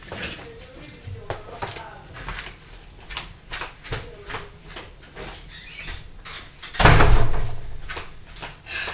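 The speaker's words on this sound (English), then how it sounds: "I'm just going to close the door really quick." Indoors in a craft space, a door is shut with one loud, close thump partway through, amid light handling noises and a person talking.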